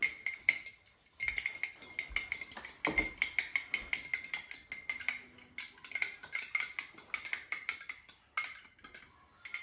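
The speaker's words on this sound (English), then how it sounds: "Then you're going to whisk it." Two eggs are whisked in a bowl, producing rapid, close clinking of utensil against the bowl in quick bursts with brief pauses, bright and steady throughout.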